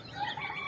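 A chicken makes a short, faint clucking call in a home setting, a brief sub-second vocalization with no speech over it.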